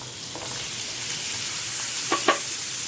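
Chopped ginger, garlic and green chilies sizzle steadily in hot butter in a pan, a constant bright hiss with a few soft stirring clicks near the end.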